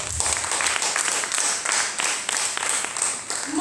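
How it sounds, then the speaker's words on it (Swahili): A church congregation claps for the Lord, a dense, continuous wash of applause filling the space, fairly loud and even throughout. "Hebu tumpigie Bwana makofi kama unanielewa."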